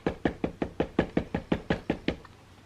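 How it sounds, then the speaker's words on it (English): Someone raps on a door with about eleven quick, evenly spaced knocks. The sharp, close, loud hits stop abruptly, and no one speaks. "she done did a knocking at the door"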